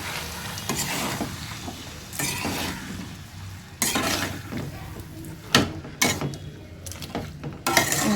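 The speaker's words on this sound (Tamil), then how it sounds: "இந்த மாங்காயை கொட்டிடலாம் நல்லா கொட்டி இதை நல்லா கிளறி விடணும்" A spoon stirs and scrapes mango pieces around a pan for pickle, with repeated clattering strokes over a soft background sizzle, close and moderately loud.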